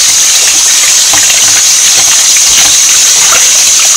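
Loud, steady rush of running water while raw beef and pigtail are washed, a continuous bright hissing splash with no pauses.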